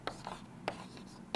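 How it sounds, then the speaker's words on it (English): Pen writing on paper during a physics lesson: three quick scratchy strokes spaced about half a second apart, close and fairly faint. "I am writing down here."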